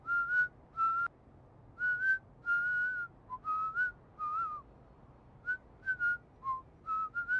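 In Lego Marvel Avengers a character whistles a jaunty melody in short bursts separated by pauses, clean and close over a faint background hum, with no voices.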